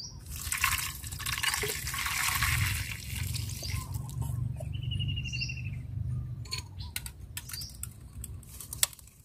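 Hot water is poured into a container for soaking a garden pest remedy, a loud liquid rush for a few seconds that is followed by lighter drips and small clinks close by.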